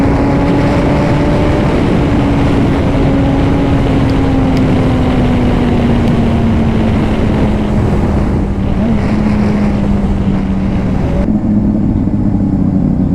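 A dirt bike engine in a video game drones loudly and continuously, its pitch sliding slowly downward under heavy wind-like rushing noise, with no voices.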